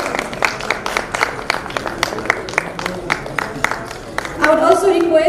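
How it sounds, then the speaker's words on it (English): Scattered hand claps from an audience at a conference session on BRI implementation in Nepal, heard during a token-of-appreciation presentation; sparse, moderately loud claps run throughout, with a tonal sound or voices rising near the end. "Please give a big round of applause."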